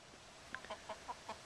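A hen and a small young rooster clucking outdoors, a quick run of about five short, soft clucks close by with faint background.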